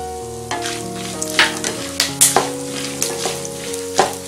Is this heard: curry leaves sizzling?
yes